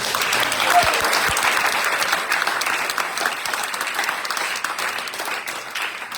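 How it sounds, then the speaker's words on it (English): Audience applause at a Vyasa Puja gathering, a full, continuous wash of many hands that swells at the start and gradually thins and fades. "So give yourself a big round of applause."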